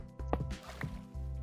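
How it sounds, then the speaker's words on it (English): Soft watery sloshing and dripping as water is placed in a blocky survival video game, faint and alone, with a few gentle splashes. "Actually, I can just place water."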